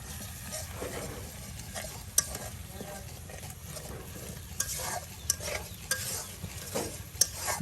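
Ground spices, turmeric among them, are stirred and fried in a pan: a continuous scraping stir over a steady sizzle, with occasional light clicks of the spoon, up close and without talk.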